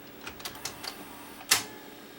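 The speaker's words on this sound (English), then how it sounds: "that click, that's actually the clutch releasing" Sharp mechanical click from the clutch releasing inside a Sony SLV701 VCR as it goes into play, heard as one clear snap after a few lighter ticks, close and alone.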